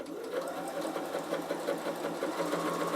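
A Bernina sewing machine stitches a starter piece of fabric with a fast, even mechanical whir and rhythmic needle ticking, steady and close throughout with no talking.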